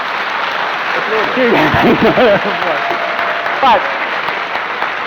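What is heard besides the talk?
debate audience applauding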